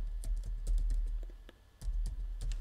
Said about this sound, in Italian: devo digitare la password dell'account che desidero eliminare